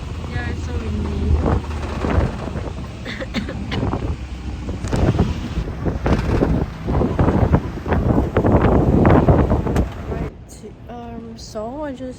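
Strong wind buffeting the microphone outdoors during sightseeing in Korea, a loud steady roar with gusts, heard under a voice talking throughout.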